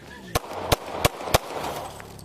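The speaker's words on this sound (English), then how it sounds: "He shot Henderson 4 times." Four sharp gunshots from a police detective's handgun, fired in quick, slightly uneven succession, loud and close against a murmur of background noise.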